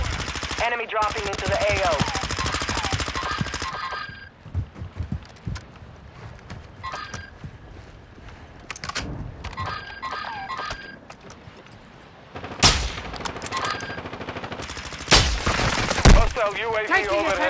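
Bursts of automatic gunfire and heavy single shots crackle through a modern military shooter video game, with radio callouts and voices talking between volleys and loud blasts near the end.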